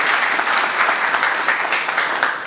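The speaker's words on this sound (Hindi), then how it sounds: "आप उन तमाम टीचर्स के लिए तालियाँ बजाएँ जोरदार जो यहाँ मौजूद हैं।" Sustained applause from an audience at a Pakistani speech competition, honouring the teachers present; steady, dense clapping fills the room at close range for the whole stretch with no speech over it.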